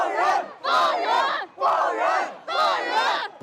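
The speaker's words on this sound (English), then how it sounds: "People spontaneously applauded her for speaking and chanted," A protest crowd in China chants in unison in four loud, rhythmic bursts separated by brief pauses, with many voices together close by.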